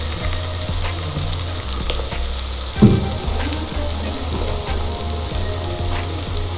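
Chopped onions with a pinch of salt fry in a pan at home, a steady close sizzle running throughout, with one brief louder clatter near the middle and no one speaking.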